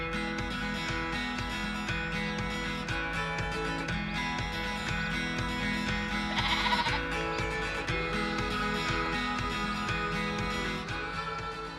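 A flock of sheep bleating continuously, many overlapping wavering calls near and far forming a dense, steady chorus, with one louder bleat rising briefly in the middle.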